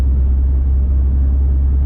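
Low, steady engine burble from a cammed C6 Corvette Z06 cruising at 1,000 RPM and 45 mph, a deep continuous rumble with a slightly uneven pulse, heard from inside the cabin.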